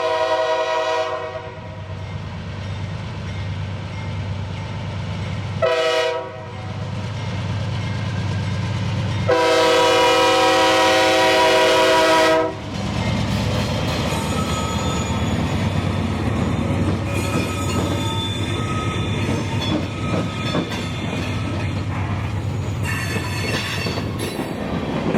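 Empty freight train Q452, bound for Waycross, Georgia, rolls past loudly with long horn blasts. Steady rumbling and clattering wagons carry on throughout, with squealing wheels toward the end and no voices.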